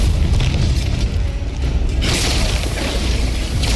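A cannon blast from a boss's tail in the action game Khazan booms loudly and fills the whole stretch with a dense, rumbling roar, a sharper burst surging midway.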